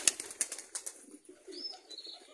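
A common pigeon arrives to feed on corn, with soft wing flaps and light scuffling up close, followed by faint, brief chirps, in a warm outdoor yard with no talking.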